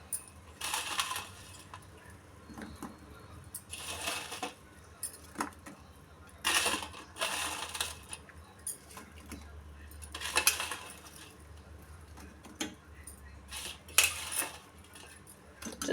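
Bread pieces mixed in a pan of cardamom-boiled liquid for bread halva. A utensil clinks and scrapes against the pan in short, repeated bursts.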